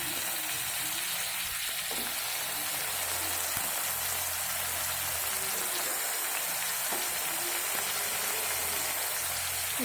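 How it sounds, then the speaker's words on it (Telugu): Mutton pieces fry in hot oil in a pot, giving a loud, continuous hiss and crackle that holds steady throughout, with a few faint knocks underneath. "ఇప్పుడు నేను ఆ మటన్ ముక్కలన్నింటినీ గిన్నెలో వేసేసుకున్నాను ఆయిల్లో"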